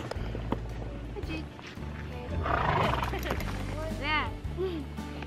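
A horse whinnies loudly during a horseback ride in the snow, with muffled hoof thuds, rustling and people talking and laughing nearby around the calls.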